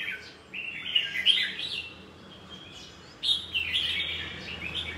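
A songbird kept for singing contests sings in two bright, rapid bursts of chirps and trills, close and clear, with a short pause between phrases and faint low background hum.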